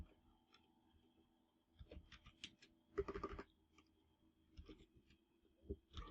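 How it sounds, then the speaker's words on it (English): Keys on a computer keyboard are typed in short, quiet clusters of taps with gaps between them, heard close up in an otherwise still room. "So I'm just gonna type in"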